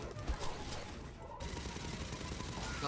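Sentry turret gunfire in the Aliens: Fireteam video game fighting synthetics, with rapid bursts of shots and crashes packed into a few seconds, loud and continuous.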